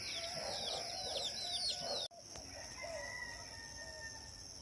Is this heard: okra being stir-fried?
no